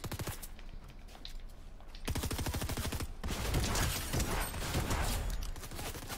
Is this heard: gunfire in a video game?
yes